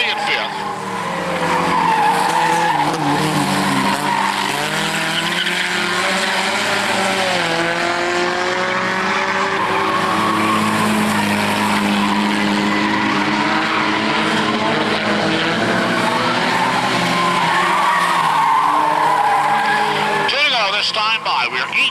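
Race cars circle a short oval track in a late-lap feature race, engines droning loud and continuous with shifting pitch as the pack passes, under steady announcer commentary.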